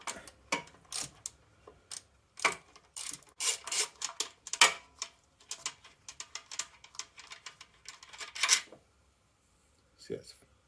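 A ratchet on a 13mm deep socket undoes nuts around the inlet of a 1994 Jaguar XJS V12, giving close bursts of rapid clicking in uneven runs with short pauses, then a final lone burst.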